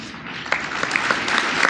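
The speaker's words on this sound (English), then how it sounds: "did you notice how there was this huge pause before they started applauding after he said that?" An audience at a formal press correspondents' dinner breaks into applause, a dense patter of clapping that swells steadily over a couple of seconds.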